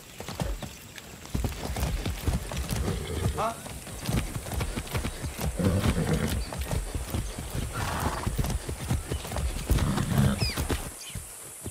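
Horse hooves clip-clop steadily in Far Cry 6, a continuous trotting rhythm close by, with a brief whinny and a voice talking over the hoofbeats.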